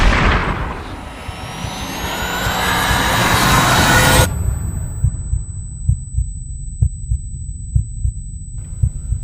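A heartbeat effect in an animated Hindi superhero story: a loud rising whooshing swell cuts off into steady, regularly spaced heavy thumps, alone and close.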